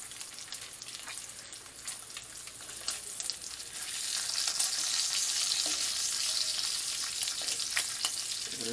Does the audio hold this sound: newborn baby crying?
no